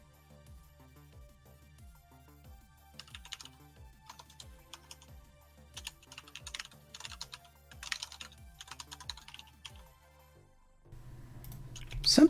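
Fast, steady typing on a computer keyboard with dense, close clicky keystrokes in bursts, alongside a low repeating musical pattern, ending in a brief louder clatter.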